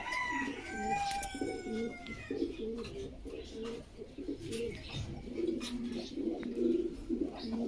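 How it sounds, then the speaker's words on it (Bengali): A pair of black Lahori pigeons coos in repeated low, throaty rolls close by, with chirps from other birds higher up and a steady background murmur. "অনেক সুন্দর অ্যাক্টিভ কবুতর।"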